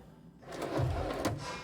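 A door slides and thuds shut in The Outer Worlds video game, a short mechanical scrape followed by a soft knock, fairly quiet with no speech.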